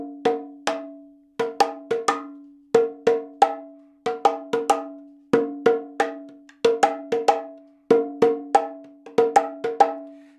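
A low and a high bata drum of ash wood and cow skin, struck with the fingertips, play a lively repeating pattern of crisp ringing tones in quick clusters, loud and close with no voices.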